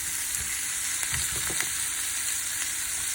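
Sweet potatoes and asparagus sizzle steadily in a buttered pan, a constant bright hiss with a few soft clinks and stirring scrapes, close and alone.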